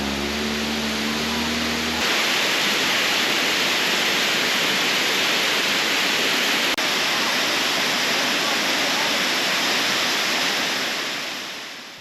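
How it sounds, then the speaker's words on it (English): A Colombian waterfall roars in a dense, steady broadband wash that fills the whole stretch after a brief low engine-like hum at the start, loud and close, fading slightly at the end. "I carried on and found these absolutely beautiful waterfalls."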